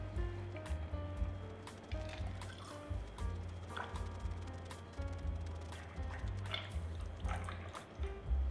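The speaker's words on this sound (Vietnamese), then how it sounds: "rót vô ly nha" A Blood and Sand cocktail is poured slowly into a glass, with soft liquid trickles and drips alongside light clinks and a low background hum, and no one speaking.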